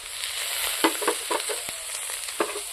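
Vegetables with fried ginger, ground nuts, chopped tomato, cumin and dried chilli being fried and stirred in a pan, a steady sizzle broken by several sharp scraping strokes of the spatula, close and alone.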